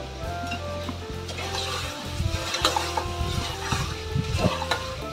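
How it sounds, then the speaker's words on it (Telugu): Mutton fries in a pan with salt and turmeric under a steady low sizzle, while a spatula scrapes and clatters in uneven bursts close by. "కొద్దిసేపు ఫ్రై చేసుకోవాలి."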